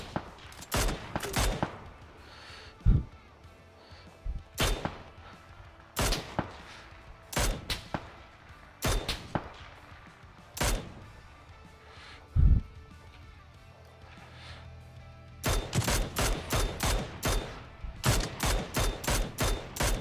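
Gunshots in a PUBG firefight: single sharp shots spaced irregularly, then a fast string of rapid shots near the end, loud and close against a quiet background.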